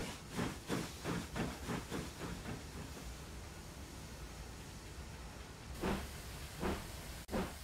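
A steam locomotive hauling a goods train chuffs in a quick rhythmic run, then gives way to a long steady steam hiss before a few more chuffs return near the end.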